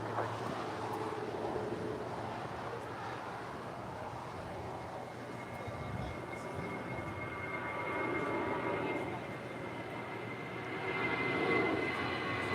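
Airliner taking off from runway 25 right at LAX, a steady broad jet roar at moderate distance that swells slightly toward the end, with no talk over it.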